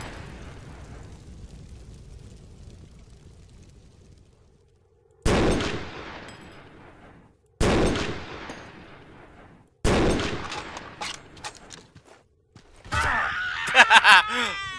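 Sniper gunfire in the video game Lost City comes as four sharp, loud shots spaced a couple of seconds apart over quiet background, with a burst of other game noise at the end.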